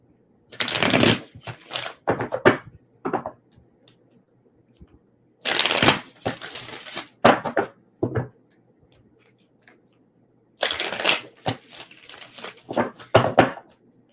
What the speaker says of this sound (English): Let me shuffle the second deck, guys.